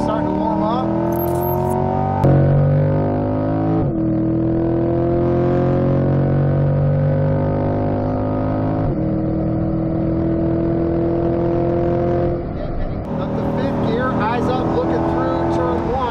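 A Corvette C8 pulls hard in fourth gear down a race track's main straight, its engine droning loud and close, pitch climbing steadily through long pulls between shifts, while a driver talks over it.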